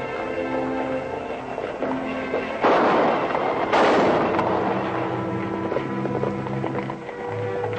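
Rifle shots ring out during a stagecoach holdup in a western TV show, two sharp loud blasts a second apart over a background of hooves and a rumbling stage, with a short, faint crack later.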